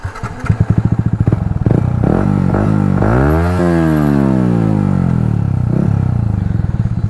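A Yamaha MT 15 motorcycle fitted with an SC Project exhaust starts with popping bursts, then revs hard, its pitch climbing and sweeping steadily upward, loud and close, with no talk.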